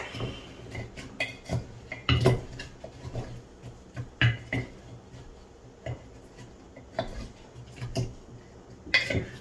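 Fruit and rum for sangria being muddled, giving close, irregular knocking and tapping thuds in short uneven bursts with brief pauses between.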